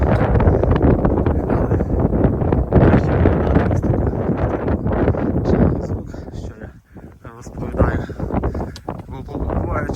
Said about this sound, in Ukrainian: Тут ви теж будете чути ось такий вітер